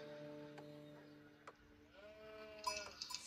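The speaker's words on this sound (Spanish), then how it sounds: "Ya encontró ovejas ahí." Sheep bleat in the strategy game Age of Empires 4, one wavering cry with harmonic layers over a steady ambient game drone, followed by brief higher clicks and interface chimes; fairly faint and with no talking.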